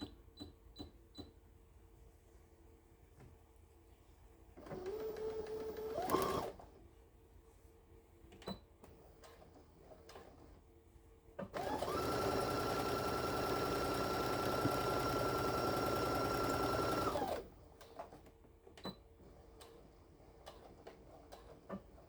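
A home sewing machine stitches a tote bag with off-white thread: a short mechanical burst, then a steady whirring run of about six seconds, with quiet pauses around both and no talk.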